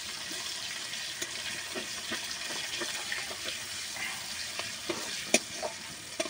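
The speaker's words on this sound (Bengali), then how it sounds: "পেঁয়াজ তুল দিয়ে একটু নেড়ে নেবো, নেড়ে চুড়ে নিয়ে তারপরে এই নেড়ে চুড়ে নিচ্ছি" Onions frying in a pan for a shimul fish curry are stirred with a spatula, giving a steady sizzle broken by scraping strokes and one sharp clink of utensil on metal, close and moderately loud with no talking.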